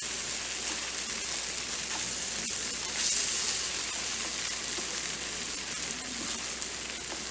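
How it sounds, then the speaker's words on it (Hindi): Maggi noodles with Schezwan sauce and butter frying in a pan, a steady, even sizzle throughout with no voices. "और 1 मिनट के लिए भूनेंगे।"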